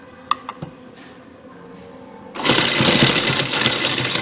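Sewing machine stitching an arm design on winter fabric starts after a few soft clicks, then runs in a loud, steady close rattle to the end.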